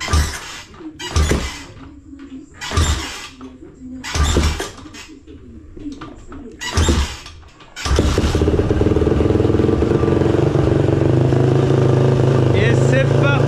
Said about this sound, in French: Et on va faire prendre vie à ce magnifique Daytona 190 tout neuf.